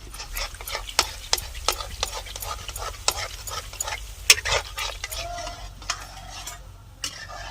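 Gulab jamun mixture stirred in a pan on a Diwali sweet stove, a spoon scraping the bottom in quick, irregular strokes with a soft sizzle underneath, close and fairly loud, no talking.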